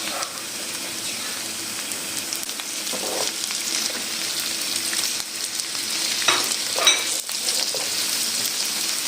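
Potatoes added to lightly browned onions frying in a pan, a dense steady sizzle like rain with a few stirring scrapes toward the end, close and continuous with no talk.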